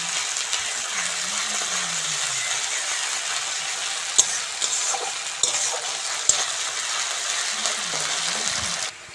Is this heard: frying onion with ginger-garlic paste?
yes